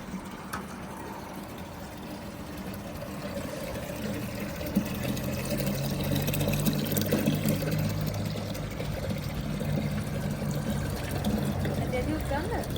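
Water from a mountain spring in Japan runs and splashes steadily at the collection spot, a continuous close pouring sound beneath a person talking.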